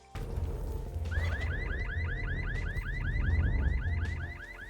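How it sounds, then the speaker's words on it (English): A car alarm in Vampire: The Masquerade - Bloodhunt whoops in a fast repeating rising electronic pattern, loud and close, over a low rumbling game background. "From dropping down on vehicles and triggering the car alarm"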